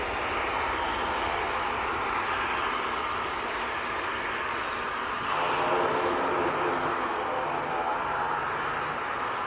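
An Emirates airliner from Dubai comes in to land at an airport, a steady broadband engine roar at moderate distance that swells a little midway, with no voices.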